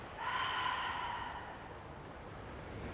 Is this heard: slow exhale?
yes